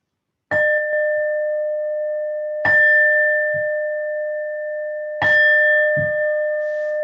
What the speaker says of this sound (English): So we're just gonna do, the gong 3 times